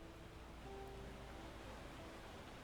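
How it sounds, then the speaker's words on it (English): Calm ocean waves wash steadily in the medieval colony sim Edge Islands, a soft, continuous surf hiss with a faint tonal melody line drifting over it, quiet and even throughout. "We've got the calm waves."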